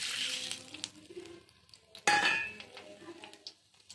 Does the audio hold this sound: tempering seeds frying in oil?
yes